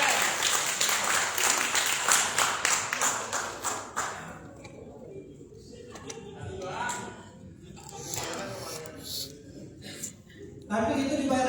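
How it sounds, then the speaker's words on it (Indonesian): Hand clapping from an audience at a plenary meeting, dense and steady for about four seconds, then breaking into scattered claps and murmuring voices before talk resumes. "Tepuk tangan sekali lagi"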